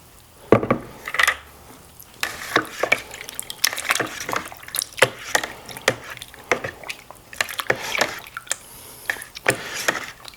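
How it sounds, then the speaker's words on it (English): A slotted spatula stirs an orange pineapple mead mixture, giving close wet sloshing and knocking against the vessel in quick irregular strokes that continue steadily throughout. "Now we're going to use our slotted spatula here to get everything stirred up well."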